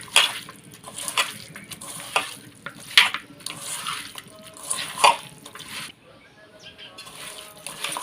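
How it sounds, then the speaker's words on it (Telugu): Chicken pieces being mixed by hand with salt and chili powder for a village-style Telugu chicken curry, with soft wet squelching and stirring noises coming in irregular bursts, some sharper clicks between them and quiet background. "ఉప్పు, కారం మొత్తం చికెన్ ముక్కలకు పట్టేలా కలుపుకోవాలి"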